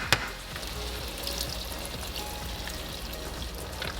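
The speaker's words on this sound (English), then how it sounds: "I love the sound of that sizzle" Steady, even crackle and hiss of Trader Joe's pumpkin gnocchi frying in a pan, with a brief clatter at the start, continuing without talk.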